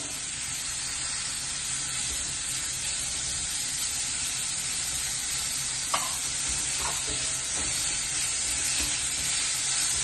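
Onion and spices for a kachori filling frying in a hot pan, giving a dense, steady hiss and sizzle close by, with a couple of soft stirring knocks midway and no voices.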